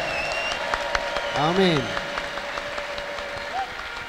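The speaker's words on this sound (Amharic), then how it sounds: "እስቲ ለጌታ ከፍ ያለ ልልታና ጭብጨባ አምጡ።" A church congregation claps and ululates after a prayer, with rising trilled ululation cries around the middle over scattered applause and a voice speaking.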